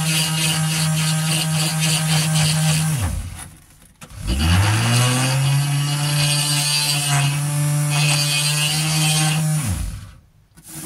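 Power drill fitted with a masonry bit grinding the grooves of an emery sharpening stone flat, a loud steady motor whine with abrasive scraping, running in two long bursts with a brief pause between them.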